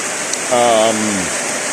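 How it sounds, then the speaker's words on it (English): Steady early-morning rain hisses evenly throughout, and a person briefly speaks or hums over it partway through. "raindrops falling on my head."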